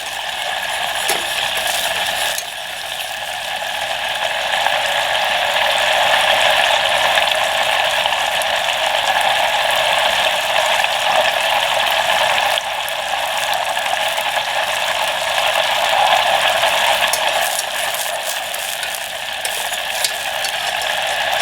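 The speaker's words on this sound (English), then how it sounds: "Okay, we got a good boil going now. You want to stir really well." Brown butter boils hard in a pan with a loud, steady crackling froth that runs unbroken throughout, with faint stirring scrapes underneath and no talking.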